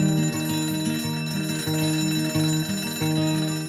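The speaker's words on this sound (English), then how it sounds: "So coming awake to an alarm bell with a sudden start is not the best way to do your life." An alarm clock bell rings continuously in rapid metallic strikes, loud and close, pulsing in a repeating pattern with no voices.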